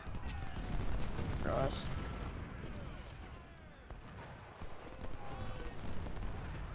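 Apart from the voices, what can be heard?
gunfire and artillery fire in Ultimate General: Civil War video game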